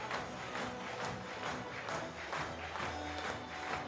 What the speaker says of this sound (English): everyone applauding